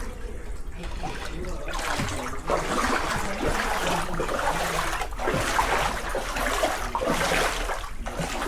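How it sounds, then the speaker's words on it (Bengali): Floodwater pours into a room, a continuous rushing and trickling flow that runs loud and unbroken, with faint voices in the background. "কোনায় মোনায় সব জায়গায় পানি ঢুকিয়েছে"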